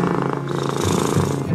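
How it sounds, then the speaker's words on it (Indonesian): Domestic cat purring close up, a steady low rumbling pulse that runs throughout under a dense, busy background layer. "dengkuran nafas kucing mempunyai irama yang serupa dengan"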